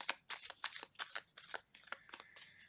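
A deck of tarot cards being shuffled by hand in repeated quick riffles and flicks, crisp and close, with no talk over it.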